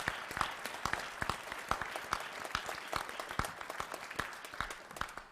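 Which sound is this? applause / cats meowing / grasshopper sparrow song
applause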